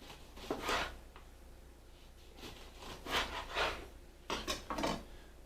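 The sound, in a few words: knife trimming the end off a lemon on a board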